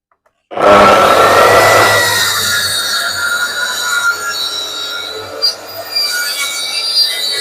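A circular saw starts abruptly and cuts through wood for a table saw modification, with a loud, close, high whine that stays steady and then wavers slightly as the blade works through the board.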